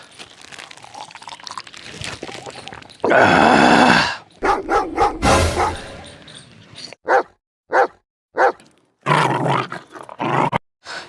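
A dog gives a burst of loud, rough growling followed by a run of sharp, evenly spaced barks, close by in a Gujarati comedy sketch with a drunk man.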